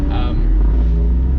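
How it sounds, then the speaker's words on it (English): An old Saab car engine revs and drops pitch through a downshift, a loud continuous drone with road and wind rumble, heard from inside the car. "I don't know if you heard that downshift"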